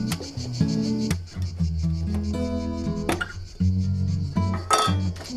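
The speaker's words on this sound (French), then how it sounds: "Bien mélanger le produit à l'intérieur de la boîte" A tool scrapes and clinks against the inside of a metal can while polyester filler putty is mixed, producing irregular knocks and scraping strokes at close range.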